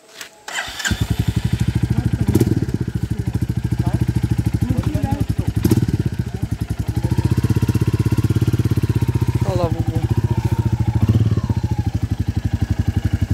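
A new motorcycle starts up in a Konkan village during the Ganpati festival, then its engine runs loud and close with an even, steady thrum while people talk nearby.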